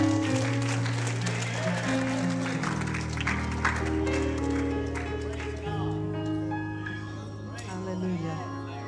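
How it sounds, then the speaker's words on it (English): A church congregation claps along in a steady wash beneath loud sustained organ or keyboard chords and voices, the clapping partly masked by the music throughout. "Give him a hand clap."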